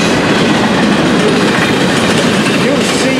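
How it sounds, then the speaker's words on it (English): A short freight train rumbles past close by, a dense rolling roar with faint rhythmic clatter of wheels on track, loud and unbroken throughout. "There they go, short train."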